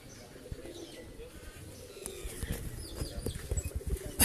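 Breeder pigeons at a rooftop loft above a warehouse in Sheikhupura give soft, low coos and scattered calls amid constant ambient noise, growing a little busier and louder toward the end.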